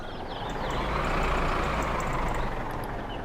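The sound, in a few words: tractor driving up to nudge a car, video game My Summer Car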